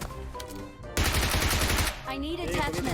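Rapid burst of gunfire in a shooting video game, loud and close for about a second, with excited voices talking before and after.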